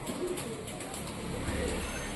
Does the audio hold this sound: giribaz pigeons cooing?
yes